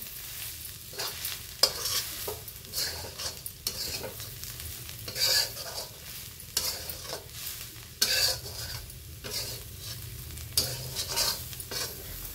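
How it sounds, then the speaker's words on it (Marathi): Oil sizzles steadily in an iron kadai during deep frying, with repeated scraping and stirring strokes of a utensil against the pan across the whole stretch, close and moderately loud, no voices. "याच्यात खूप सारा असं जास्तच तळण असते का, तर मी ह्या कढईमध्ये तळत असते।"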